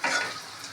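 Boiled potatoes frying lightly over a low flame in a pan for a dum aloo biryani, giving a soft, steady sizzle with faint stirring, close and quiet, no voices.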